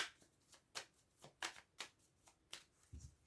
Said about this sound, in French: je bats les cartes cette fois